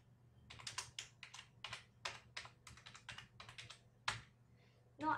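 Keystrokes on a computer keyboard while filling in a registration form, a quick irregular run of close, crisp clicks in short bursts with brief pauses between, alone with no talk.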